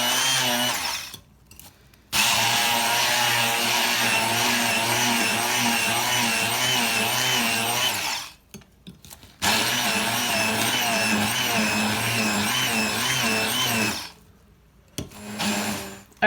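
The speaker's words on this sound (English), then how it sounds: "you can see it's starting to blend" A blender whirs loudly, chopping garlic and herbs for a green sauce in long steady bursts with brief pauses between runs, the motor pitch wavering as the blades churn.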